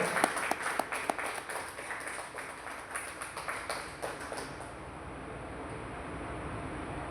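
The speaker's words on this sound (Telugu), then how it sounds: "క్లాప్స్ గట్టిగా కొట్టాలి" An audience at an Ayurvedic medicines awareness meeting in Palvancha claps as a guest is called onto the stage, a light patter of applause that thins out and fades over several seconds.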